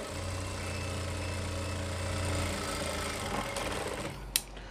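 An electric sewing machine runs steadily, stitching along the edge of a pant belt, a continuous close whir that slows and stops near the end, followed by a couple of small clicks.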